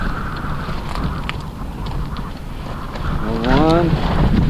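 Wind buffets a Clam ice fishing shelter during a windstorm, a steady broadband rush with a louder swell near the end, while someone talks underneath.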